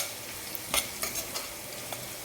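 Mixed vegetables with salt frying in a pan, giving a steady close sizzle broken by several spatula scrapes and stirring knocks, no voices.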